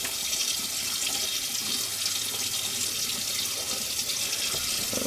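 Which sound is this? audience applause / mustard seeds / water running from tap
water running from tap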